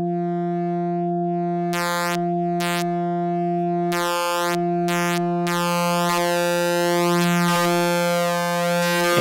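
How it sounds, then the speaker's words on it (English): Pure sine waves driven into clipping on an AI Synthesis AI022 Harmonic Mixer synth module: steady electronic tones with stacked harmonics, bursts of bright buzzy overtones and sweeping chirps, loud and close, no talk. "once I start to go beyond a certain point, we build up some harmonics when it starts to clip a little bit"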